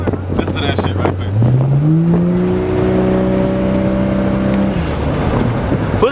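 Turbocharged car engine at a car wash, revving up from a low idle into a loud rising drone that holds for a few seconds before dropping off, heard close.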